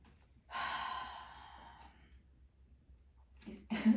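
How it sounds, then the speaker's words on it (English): Deep breathing close to the mic: a long, airy exhale that fades slowly, a quiet stretch, then a sharper, louder breath at the very end. "Sorry for my deep breathing."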